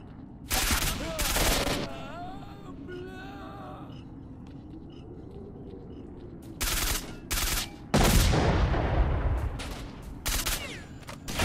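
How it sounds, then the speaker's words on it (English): Heavy gunfire in STALKER Shadow of Chernobyl: loud broadband bursts arrive in two clusters, separated by a quieter stretch of low rumble and faint background noise. The shots sound fairly close. "They're using their shotgun from way over there."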